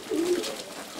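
Racing pigeons of Albert Marcelis lines coo in a loft, a single low throaty coo close by over a soft airy background.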